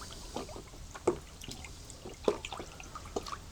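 Fertilizer being stirred into water in a container for seedlings, producing soft sloshing and a few light knocks and splashes at an uneven pace, close and fairly quiet, with no talking.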